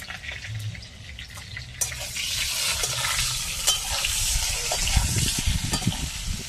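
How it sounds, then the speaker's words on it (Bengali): Eggplant pieces with salt and turmeric fry lightly in a hot pan: a sudden close sizzle that swells into steady crackling, broken by stirring clatter and spattering bursts, with no talking. "বেগুনগুলো একটু ভেজে নেবো হালকা করে"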